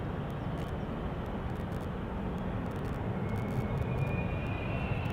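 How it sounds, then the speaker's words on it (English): KLM jet airliner bound for Sao Paulo at Schiphol's Polderbaan runway, giving a continuous rumbling engine roar at a fairly constant moderate level, with a faint rising whine near the end and no talking. "KLM Flight 791 going to Sao Paulo"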